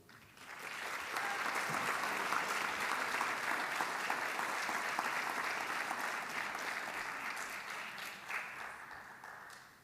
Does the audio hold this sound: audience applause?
yes